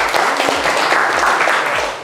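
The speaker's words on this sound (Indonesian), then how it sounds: "Kita tepuk tangan buat kita semua" A class claps hands together in a quick, brief burst of applause, close and fairly loud.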